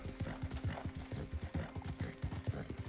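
Horse hooves clip-clop in a quick, steady rhythm in the Western video game Red Dead Redemption, fairly faint and close, over a low background hum.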